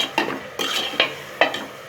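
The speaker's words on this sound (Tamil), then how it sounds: "இப்போ இதையும் நல்லா வதக்கணும்." Tomatoes sautéing with ginger garlic paste in a pan for a Mughlai chicken dish, with a spoon scraping and stirring in periodic strokes over a soft sizzle.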